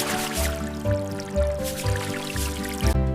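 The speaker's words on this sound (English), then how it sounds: "Always wash your vegetables first." Water runs and drips as vegetables are washed for a cheese pizza: steady liquid trickling with soft splashy pulses roughly every half second, close and continuous.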